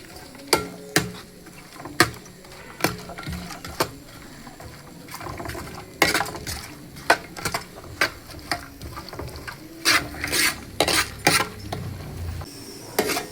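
A utensil stirs beef liver with salt in a pan, giving sharp metallic clinks and scrapes at an irregular, repeating rhythm, close and clear over a quiet background.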